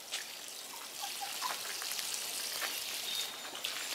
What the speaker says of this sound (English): Water is on full force.